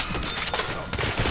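Rapid Argus shotgun blasts in a first-person shooter, a dense burst of loud, close shots running together over about a second.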